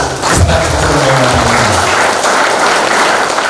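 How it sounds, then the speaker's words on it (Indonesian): Loud, sustained applause from a large audience, dense and continuous, with a few voices briefly audible at the start. "tepuk tangan dulu untuk."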